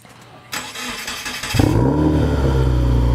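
A newer Subaru WRX with one of its mufflers removed sits quiet, then its engine cranks and fires with a sharp jump in loudness and settles into a deep, loud, steady idle close by, with no talking.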